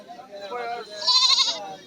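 A goat bleats at a Qurbani livestock market in Deodighi, with a strong, wavering call building near the middle, close by and mixed with people talking nearby.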